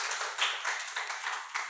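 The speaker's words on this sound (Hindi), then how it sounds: "तालियां बजाइए" An audience at a poetry reading claps in a steady, dense burst of many hands, fairly close and even in loudness throughout, with no talk over it.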